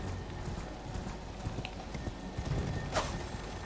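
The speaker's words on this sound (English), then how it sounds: "Torrent, stop being a fool. Silly horse." Torrent, the spectral steed in Elden Ring, trots with quick, even clip-clop hoofbeats close by, and a brief snort or whinny rises near the end over faint game ambience.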